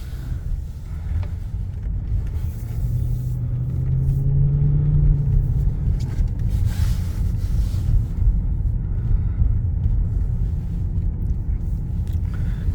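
A 2003 Lexus LS 430 drives along with a steady, loud low engine and road rumble, rising slightly in the middle and holding an even drone to the end, with no talk.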